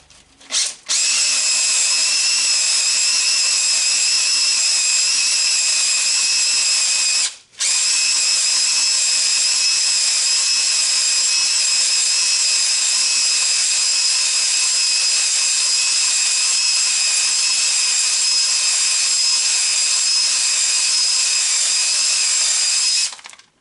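A drill-driven hone works inside a Scout engine cylinder, giving a steady loud whirring drone for about seven seconds, then a brief stop, then a long unbroken run to the end.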